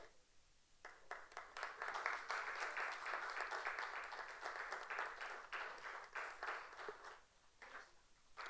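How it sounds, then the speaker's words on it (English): An audience applauds young performers at a classical dance festival, a steady wash of clapping that swells early and holds fairly even before thinning near the end, moderately distant with no talk over it. "Huge round of applause."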